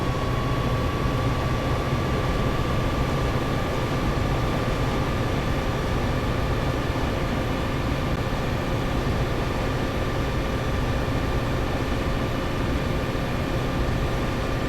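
A passenger train on the Peninsula Corridor in Train Sim World throttles up, its cab drone and traction motor hum steady and loud throughout, with faint tonal whines layered over a dense rumbling bed.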